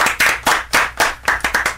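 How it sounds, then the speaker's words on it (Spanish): Audience clapping for Manuel "El Loco" Valdés, a short run of about eight distinct, close hand claps in an uneven rhythm. "¡Fuerte el aplauso!"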